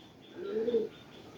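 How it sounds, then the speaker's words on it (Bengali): A domestic pigeon gives a single soft, close coo lasting about half a second while it feeds a young chick, in an otherwise quiet setting. "এই যে এই কবুতরটা ওরা খাওয়াইতেছে"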